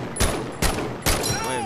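Three loud, close gunshots ring out about half a second apart in the VR war game Medal of Honor, each one a hard crack over a steady background din.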